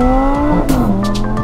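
A Lamborghini drag races a Prius on a Las Vegas street, giving a loud, close burst of revving engine with a rising whine and a brief tire squeal, all over about a second and a half.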